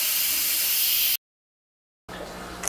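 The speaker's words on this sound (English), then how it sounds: "we're going to go ahead and hit the steam button. Let the steam come out of it" Steam bursts from an Instant Pot pressure cooker as a loud, steady hiss that cuts off abruptly, then returns as a quieter, fainter hiss after a short silence.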